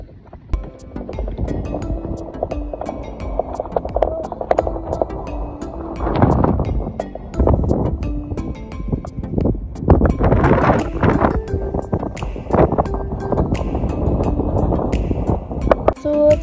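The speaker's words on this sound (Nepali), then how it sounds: "चेरगोरी पिकमा चाहिँ अहिले यसरी हावा चलिरहेछ" Gusty wind at Chirgori Peak in Langtang, near 4985 meters, buffeting the microphone in uneven bursts that swell and fade over a roaring low rumble.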